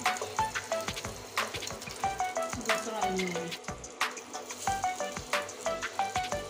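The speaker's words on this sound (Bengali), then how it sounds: "দেখুন ফিশ ফ্রাই হচ্ছে, মশলা ফিশ ফ্রাই" Spiced katla fish fries on low heat in a pan, giving a soft, continuous sizzle mostly buried under bouncy, rhythmic background music.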